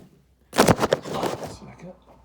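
A steel man door on an off-grid shipping container tiny house is pulled shut with a loud, close metallic clatter. Several sharp impacts rattle over about a second, then fade into quiet.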